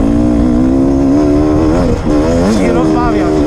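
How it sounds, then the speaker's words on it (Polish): A motorcycle engine drones steadily at close range while riding, its pitch rising and falling with the throttle, while someone talks over it. "silnik zakłóca mój głos"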